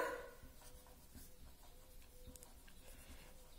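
Chalk or marker scratches across a board during a maths lesson, soft irregular writing strokes heard faintly in a quiet room with no talk.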